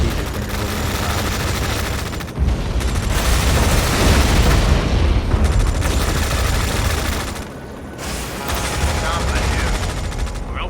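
Sustained gunfire and explosions from a Tom Clancy's EndWar campaign battle, dense and continuous with booming low rumbles, a brief lull near the middle and another near the end before the firing resumes.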